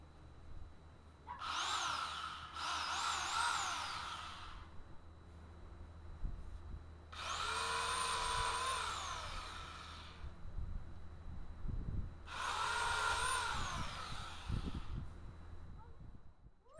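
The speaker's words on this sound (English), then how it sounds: "we're going to nip off that branch you can see to the left. This should not be a big deal for this saw." A Harbor Freight electric pole saw cuts through a small tree branch in three sustained whining bursts separated by pauses, the motor pitch rising and dipping under load, moderately distant and fairly quiet.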